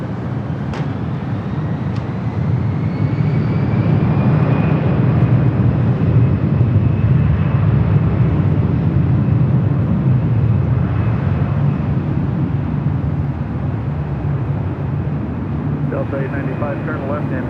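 A Delta airliner takes off from runway 24 left at LAX, a loud sustained jet roar swelling and then easing as it passes, with a rising whine over the rumble.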